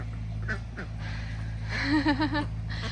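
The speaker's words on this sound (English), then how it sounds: "I just love watching ducks play in water." Several ducks quack close by in fresh water at a coop, a quick run of nasal calls building near the end over a steady low hum.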